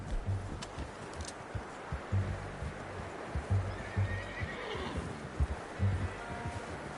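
A horse in Red Dead Redemption 2 whinnies and snorts over low, rumbling ambience, with a few soft hoof clops scattered through the recording.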